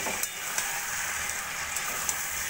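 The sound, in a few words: stirring cooked mixed vegetable curry in pan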